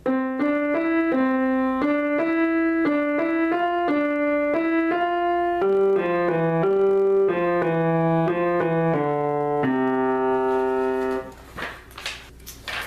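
A simple, slow beginner piano melody, All My Friends, in single notes with held tones tied over bar lines, played steadily and clearly before ending in a brief rustle of noise.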